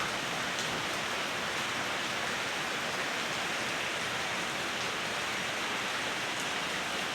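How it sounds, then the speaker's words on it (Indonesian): Steady heavy rain driven by strong wind, a dense unbroken hiss of falling water filling the whole clip with no voices. "Hujan disertai dengan angin yang cukup kencang."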